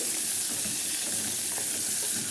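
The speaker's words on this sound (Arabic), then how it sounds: "بشوح اللحمه اهي" Meat sizzles and sputters steadily in a hot pan alongside browning onion and garlic, a continuous close frying hiss with soft stirring movement and no voices.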